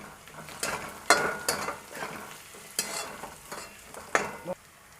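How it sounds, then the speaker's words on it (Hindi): Fried potatoes with a little turmeric get stirred in a pan for Maharashtrian kanda poha: a series of close scraping, clattering strokes over a soft background sizzle, each stroke a distinct burst. "अब हम इसमें थोड़ी सी हल्दी डालेंगे और इसको मिला लेंगे।"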